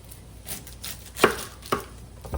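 A knife chops an onion on a board, two distinct close knocks standing out against a quiet kitchen background, with fainter cuts around them.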